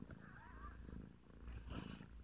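Two-day-old kittens purr faintly and continuously up close, a soft rhythmic rumble with light rustling.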